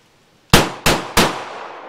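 Three sharp, loud Walther PDP pistol shots fired with Phoenix ammunition at a range, each crack followed by a short decaying ring, spaced about a third of a second apart.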